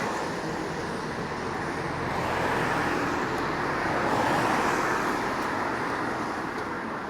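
An early-morning bus rolls down a road before dawn in Dartmouth, its broad engine and tire roar swelling gradually as it approaches and then holding steady, with no one talking.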